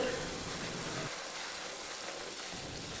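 Puris deep-fry in hot oil, made with Aashirvad atta: a soft, hissing bubbling sizzle that stays faint and steady, with a lower rumble in the first second before it thins out.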